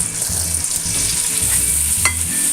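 Onion fries in a casserole with a loud, continuous sizzle and crackle, steady throughout with faint stirring knocks underneath and no voices.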